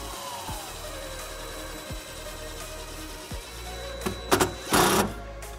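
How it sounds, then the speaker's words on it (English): A self-tapping ground screw is driven with a 1/4-inch socket under the rear threshold panel of a 2021 Subaru Forester during a trailer wiring install. A few short, close power-driver whirs come after quieter clicks and ticks. "we're gonna use the provided self-tapping screw and a 1/4-inch socket"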